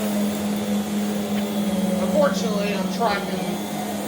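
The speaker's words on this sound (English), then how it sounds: "That's a very high RPM brush roll." An upright vacuum cleaner with a very high RPM brush roll runs with a loud, steady high-pitched whine and motor hum, close by, while someone talks over it.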